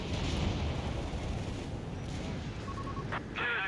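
Naval guns pound a creeping barrage in Company of Heroes 3, a dense, continuous rumble of distant heavy shelling with booming impacts filling the whole stretch, no voices over it.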